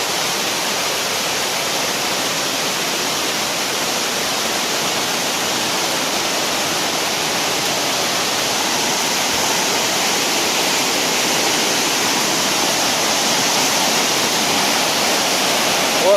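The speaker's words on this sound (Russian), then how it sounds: "Вот второй водопад." The Nikhaloy waterfalls in Chechnya roar as a loud, unbroken wall of falling water, dense and steady from start to finish, heard up close with no voices.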